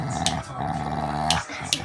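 A dog gives a low, drawn-out guttural burp that rumbles for nearly two seconds, close to the listener, with a few faint higher squeaks mixed in.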